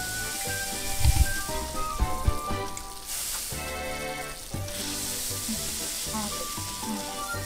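A cooking sizzle in the Wii video game Cooking Mama, a continuous synthetic frying hiss with a few knocks early on, steady and fairly loud, with faint background music.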